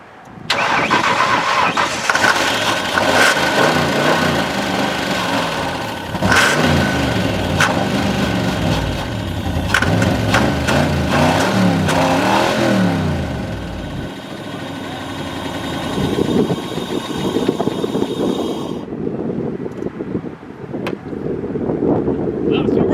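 A car engine that has sat unused for 15 years starts and runs rough, with uneven revving surges and sputtering, then settles to a lower, ragged idle; it is close, with wind buffeting the microphone and people talking.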